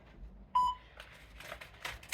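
A workout timer gives one short, clear electronic beep during a session of drills for throwing power and accuracy, followed by faint rustling and movement noises, with no talking.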